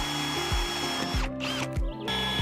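A power drill bores a hole into a van, whirring in several short, repeated bursts that start and stop sharply, close and loud, with no talking.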